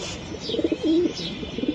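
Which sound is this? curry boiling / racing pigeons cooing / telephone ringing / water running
racing pigeons cooing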